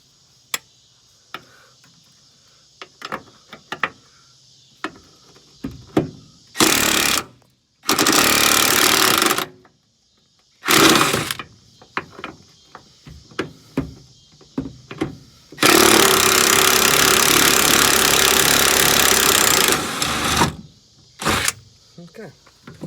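A power impact tool removes the bolts on the rear bumper of a crashed 2006 Mercedes Sprinter, sounding in several loud close bursts of rapid hammering, one long and the others short, between quieter clicks, handling noises and brief talk.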